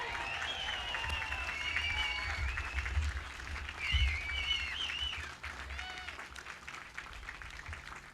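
An outdoor Memorial Day ceremony audience applauds a group of children, with steady clapping mixed with crowd voices, whistles and scattered cheers that run the full length at moderate volume.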